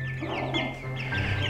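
Week-old Bresse chicks cluck and cheep in quick soft bursts close by, over a steady low hum.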